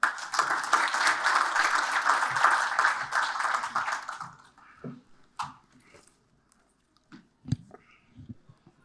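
An audience at an Africa Down Under 2022 conference session claps for the Gabonese minister, a dense round of applause for about four seconds that quickly thins into a few scattered claps and quiet shuffling.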